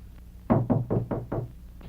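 Five firm knocks on a door land in a steady, evenly spaced run, close and solid, followed after a pause by a fainter sixth rap.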